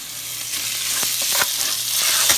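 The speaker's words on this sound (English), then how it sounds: "I'm going to fry up the bones too" Pork chop pieces and bones fry in hot oil for a stir fry, giving a steady loud sizzle with scattered sharp pops and crackles throughout, no voices.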